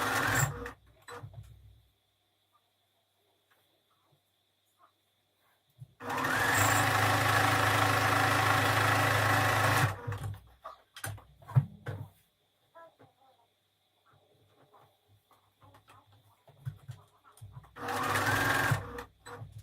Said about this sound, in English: Now I'm going to go ahead and flat stitch my double hem.